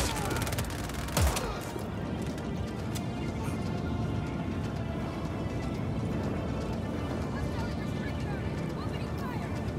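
Rapid gunfire from a Just Cause 4 firefight, crackling steadily through the whole stretch with one sharper burst near the start, set against a dense, busy game soundscape.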